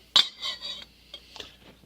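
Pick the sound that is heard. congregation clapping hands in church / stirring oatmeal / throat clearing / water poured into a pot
stirring oatmeal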